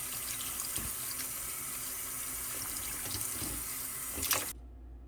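Tap water runs steadily over leafy bhaji greens in a sink as they are washed for cook-up rice with beef, a continuous close hiss that stops abruptly near the end.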